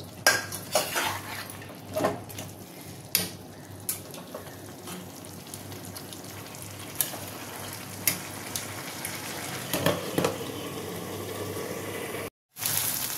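Metal pot and utensil clatter while fish heads cook in a banana-flower ghonto, sharp clinks and knocks over a low steady sizzle, with a brief clunk near the end like a lid set down.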